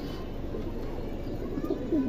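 Pigeons of silver, beji and pankhi lines coo softly nearby in a low, steady murmur, with a couple of slightly clearer coos near the end.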